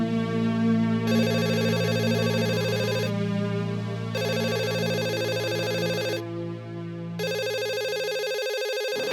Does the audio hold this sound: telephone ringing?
yes